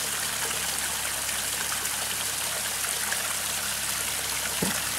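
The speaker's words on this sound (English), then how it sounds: "There's another shot of the waterfall cascading down." Garden waterfall cascading down into a backyard pond, a steady, dense rush and splash of falling water close by, continuous and unbroken with no voices.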